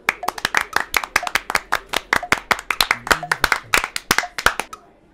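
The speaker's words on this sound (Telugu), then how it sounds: "Everybody see Gautami and learn, clap." A school class claps together in a classroom, a brisk run of sharp, evenly spaced handclaps that fades out near the end, with no talking over it.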